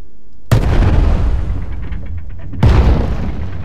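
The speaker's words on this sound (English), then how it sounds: "Okay, this thing, heavy, heavy cannon, dude. Like, so I'm shooting." Heavy cannon on a flying ship in Worlds Adrift firing twice about two seconds apart, each shot a loud, close, sudden deep boom that rumbles on afterwards, with no talking.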